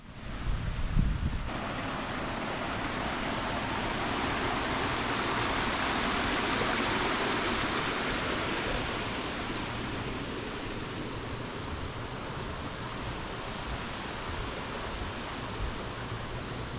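A small waterfall in a Japanese garden pours as a continuous broadband rush of falling water, loud and close, holding steady for the whole stretch with no voices.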